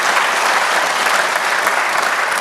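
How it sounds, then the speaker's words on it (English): Audience applause at the Reagan National Economic Forum, an even wash of many hands clapping, loud and sustained without pause, no talking. "That deserves an applause."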